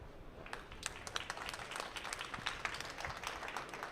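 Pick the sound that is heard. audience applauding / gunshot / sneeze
audience applauding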